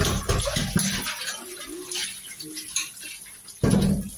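Rice being washed by hand in water in a home kitchen: sloshing, splashing water with light clinks of a pot, fairly close, with a louder burst of agitation near the end.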